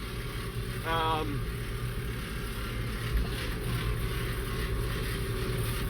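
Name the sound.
TYM T1104 tractor engaged in shuttle mode driving uphill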